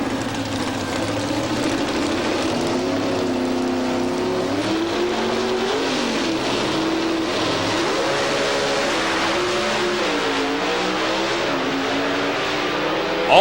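NHRA drag racing cars, one a Chevrolet Camaro, at the 1987 U.S. Nationals roar steadily at close range. The engine note rises and wavers as they accelerate down the strip.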